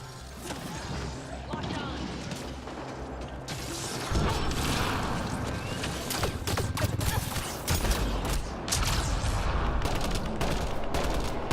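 Gunfire in the sci-fi shooter game Mass Effect: Andromeda, a dense stream of shots and mechanical clatter running throughout at fairly steady loudness, with voices talking over parts of it.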